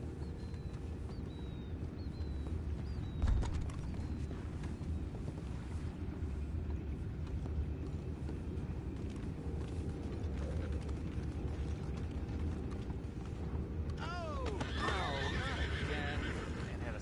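In Red Dead Redemption 2, horses give a loud whinny near the end over a constant rumble of outdoor ambience, with faint clopping and a few distant calls earlier.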